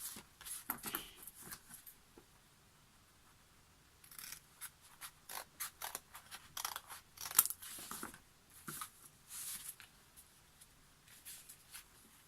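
Scissors snip and trim paper for a handmade concertina sketchbook, in bursts of short crisp cuts and rustles separated by quiet pauses, close up and fairly soft.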